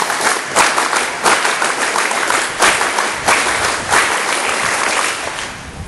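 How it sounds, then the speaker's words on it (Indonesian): A group of Pramuka scouts at a school scout induction claps together in a rhythmic pattern, with sharp unison beats recurring at uneven intervals over a continuous bed of applause, close and loud. "Tepuk Pramuka."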